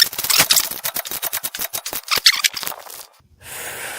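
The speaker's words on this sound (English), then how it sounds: "So I can use the torque wrench on it." A torque wrench on an outdrive bolt, tightened to 55 foot-pounds, ratchets in a quick run of sharp, evenly spaced clicks close by, then falls silent before a soft hiss takes over.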